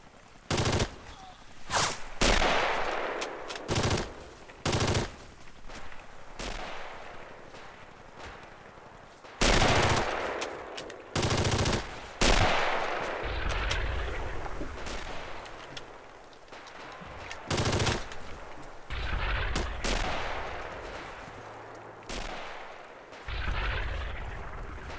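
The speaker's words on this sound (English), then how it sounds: "Our machine gun is here, it's covering us." Machine-gun bursts and scattered rifle shots crack loudly and repeatedly in a Mare Nostrum battle, some bursts sustained and others clipped short, with no speech among the firing.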